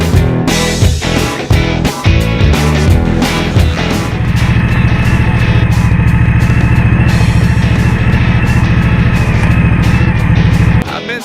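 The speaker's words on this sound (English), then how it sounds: "Scrambling the Scout a little bit. It's not bad in the dirt" An Indian Scout 60 motorcycle is ridden on dirt, first with choppy, uneven engine bursts, then a loud, steady, close engine drone that holds for several seconds before cutting off abruptly.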